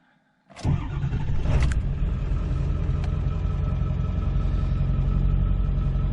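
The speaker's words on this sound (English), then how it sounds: "We'll see how it starts up and runs now." A Ford 7.3 Powerstroke diesel engine, recently repaired for an injector pressure regulator fault, cranks briefly and fires, then settles into a steady, loud, close-up rumbling idle with no talk.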